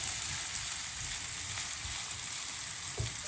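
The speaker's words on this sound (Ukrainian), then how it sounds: "поки цибулька смажиться" Onion sizzles steadily in a hot pan, a soft constant hiss with an occasional small clink near the end.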